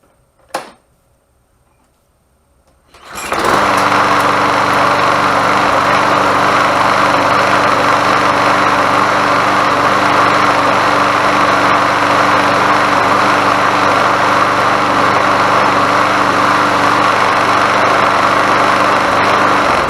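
A 2003 MTD Yard Machines lawnmower engine, newly fitted with a replacement pull cord, is cold-started. A sharp pull comes first, a brief quiet follows, and then the engine catches and runs loud and steady close by.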